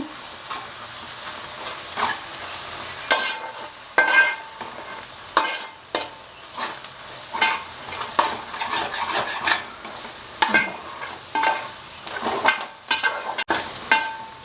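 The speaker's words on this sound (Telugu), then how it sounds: "గరం మసాలా కూడా నేను ఇప్పుడే వేసేస్తాను గరం మసాలా మన ఛానల్లో ఉంది ఈ వీడియో ఇది ఒక్క నిమిషం వేయించుదాము" Fish curry masala with garam masala fries in a pan while a spoon scrapes and stirs in irregular strokes over a continuous close sizzle, with no talking.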